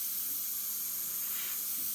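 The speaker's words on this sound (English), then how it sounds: "There's another color. It's the sky color, the violet. I'll spray that right above there." A steady, faint airy hiss of violet sky-colour paint being sprayed onto a pastel sunrise painting, continuous and even throughout with no voices.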